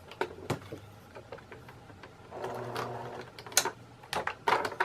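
A home sewing machine stitches a purse strap repair, with short bursts of fast mechanical whirring and clicking, close up, between brief pauses as the work is adjusted.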